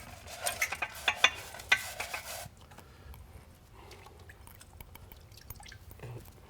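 A small nail brush scrubs the wet plastic fixed plate of a Buon Vino Super Jet wine filter, giving a few quick bristly strokes, then quieter faint wet handling sounds follow.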